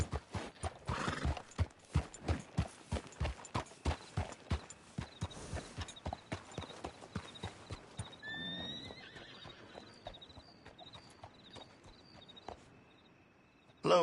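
Rapid, crisp hoof clip-clops in a steady rhythm from Red Dead Redemption 2, slowing and fading, then a horse whinnies near the end.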